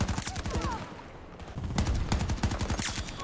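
Rapid gunfire from the video game Battlefield 2042, dense bursts of automatic shots and scattered single cracks, loud and near, with overlapping distant firing in a chaotic battle scene.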